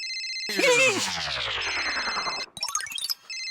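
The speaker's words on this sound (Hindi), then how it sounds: "फिर से आया फोन।" A mobile phone rings loudly with a repeating electronic ringtone, and a short comic musical sting briefly overlaps it before the ringing resumes, with no talk.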